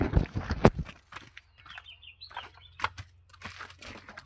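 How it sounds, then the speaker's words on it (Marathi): A hen flaps its wings in quick, close bursts and gives short clucks in a quiet farmyard, with pauses between the flurries. "ती कोंबडी आहे."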